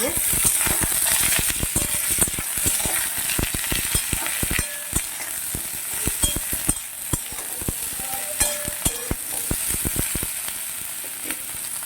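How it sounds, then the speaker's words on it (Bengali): Pointed gourd vines with papaya stirred while frying in a pan for a Bengali potol lotir rosa, a constant close sizzle broken by many sharp ladle clinks and scrapes against the pan in an irregular rhythm. "আর পটলের লতাটা এগুলো দিয়ে একটু নেড়ে ছেড়ে নেব"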